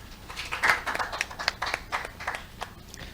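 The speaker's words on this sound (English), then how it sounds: "Please give a warm applause to Mr. Konung Kim." Audience applause at a regional competition presentation, a dense patter of many hands clapping at moderate distance, steady through the whole stretch with no talk over it.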